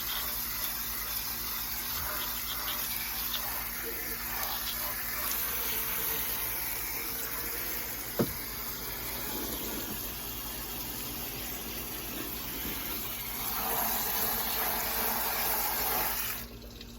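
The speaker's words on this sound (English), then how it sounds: "want to make sure you rinse it real good because this is not something you want to leave on" Water sprays and runs steadily while rinsing cleaning spray off a car engine. A continuous hissing gush lasts throughout, with a single sharp knock partway through and a louder burst near the end.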